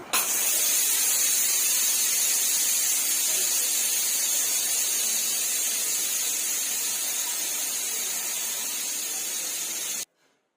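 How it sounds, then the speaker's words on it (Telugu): Steam rushes loudly and steadily out of a pressure cooker as a spoon lifts the weight after cooking dal, a constant close hiss that stops abruptly near the end. "ఆ స్పూన్తో ఆవిరినంతా పైకి పంపిస్తున్నా"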